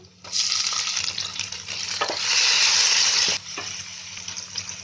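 Tomatoes drop into a hot pan with oil and chopped chillies while cooking potato chaat, setting off a loud close sizzle that swells and then settles under stirring, with no talk.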